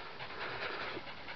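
A hunting dog pants in quick, steady breaths during a wild boar hunt, close and fairly quiet, with no voices.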